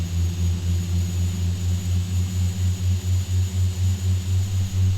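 Beechcraft B200 turboprop taxiing in the X-Plane 10 flight simulator: a loud, steady engine drone with a pulsing low throb and a high whine held throughout, no voices.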